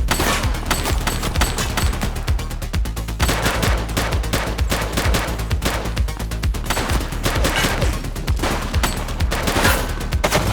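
Gunfire crackles without pause through a police shootout in the video game The Precinct, with dense, loud, overlapping bursts of rapid shots that continue throughout.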